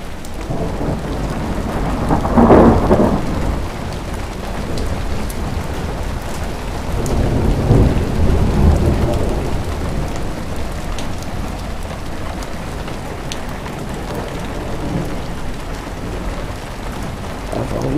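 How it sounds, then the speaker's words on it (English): Heavy storm rain pours down in a steady, dense hiss against windows, with a couple of deeper rumbling swells rolling through partway. "A lot of rain coming down."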